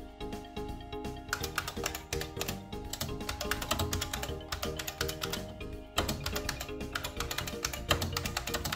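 Rapid, steady clacking of a restored IBM Model F AT mechanical keyboard, dense and continuous with a brief pause partway, close and clear with no voices.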